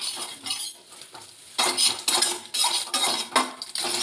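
An egg frying in a pan of oil that was not fully heated, heard close up as scraping and clattering of a utensil against the pan over a light sizzle, in uneven bursts with no talking.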